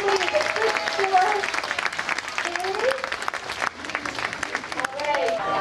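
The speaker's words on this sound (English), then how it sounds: "Folks, let's give them all one more big round of applause." Sustained crowd applause at a county fair contest in Bemidji, Minnesota, a dense wash of clapping that runs throughout, with a brief dip near the middle and scattered cheers and voices mixed in.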